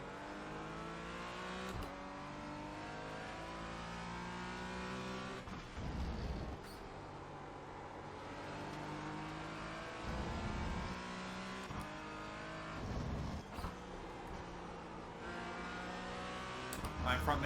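A race car engine in the iRacing Michelin Pilot Challenge, droning and revving through repeated up- and downshifts, with a steady onboard roar throughout and several sharp gear-change bursts.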